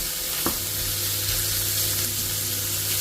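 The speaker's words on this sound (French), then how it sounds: "Les oignons sont bien revenus. Je rajoute les lardons." Chopped onions and bacon lardons fry in a pan with a steady, loud sizzle, with one brief clink of a utensil near the start and no talking.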